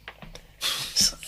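A sudden, breathy sneeze bursts out after a few soft sniffs, sharp and close, with a second explosive burst right behind it.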